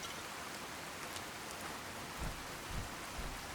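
Heavy storm rain pours steadily in Fallout 4, a dense, even hiss with a few low rumbles near the end, with no voices over it.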